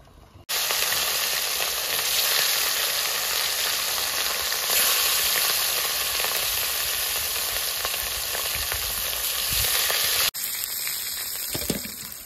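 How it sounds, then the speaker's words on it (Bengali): Katla fish pieces fry in hot oil with a loud, dense, hissing sizzle that holds steady for about ten seconds before cutting off abruptly to a quieter, fainter crackle. "এইভাবে সব মাছগুলো ভেজে নিই।"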